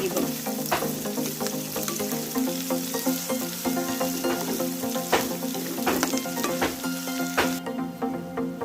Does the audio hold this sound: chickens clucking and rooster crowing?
no